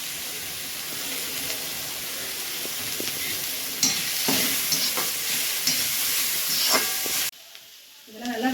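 Vegetables, including cabbage, sauté in a pan for veg fried rice, making a close, continuous hissing sizzle broken by occasional stirring scrapes and knocks before it cuts off abruptly near the end.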